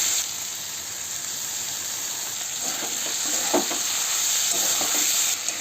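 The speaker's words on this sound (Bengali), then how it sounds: "শুটকি মাছটা পেস্ট হয়ে গেছে, কুমড়োটাও একটু ভাজা হয়ে গেছে। এর মধ্যে শুকনো মাছটা দিয়ে দেবো।" Dried fish paste frying with pumpkin in a pan, a steady soft sizzle and hiss throughout with a few faint stirring scrapes near the middle, no talking.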